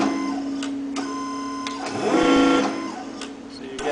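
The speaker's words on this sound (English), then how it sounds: "the large motor activates for large step changes, and the small motor activates for small step changes" Whirring and buzzing of electric actuator motors on a furnace induced draft fan, stepping in short pulses with a louder, longer run near the middle, heard close over a steady background hum.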